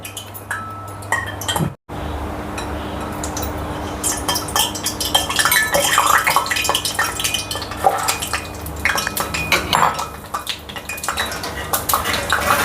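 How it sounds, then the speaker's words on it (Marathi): Peanuts frying in hot oil in a pan while making crispy bitter gourd (karela) chutney, with a steady sizzle and scattered clinks of utensils against the pan throughout, moderately close. "आता आपण शेंगदाणे तळून घेऊया"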